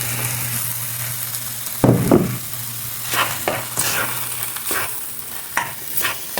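Scrambled egg stirred into a pan with shredded tuna and dried squid, loud sizzling under repeated scraping strokes of a spatula, a hum of a range hood or burner running steadily beneath.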